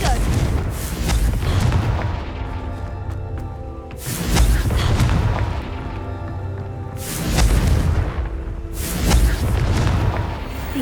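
Booming blasts from the Confringo spell in Hogwarts Legacy, several heavy explosions landing at intervals of a few seconds over a rumbling game soundscape.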